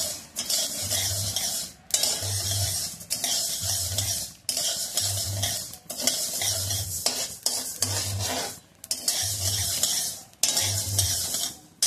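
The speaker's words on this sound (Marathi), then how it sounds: "तर अशा प्रकारे आपण हे भाजून घ्यायचे आहेत व्यवस्थित" Thalipeeth bhajani flour is dry-roasted in a pan at home, with steady rhythmic stirring and a spoon scraping the pan in repeated strokes, a light sizzle underneath, close and fairly loud, with no talking.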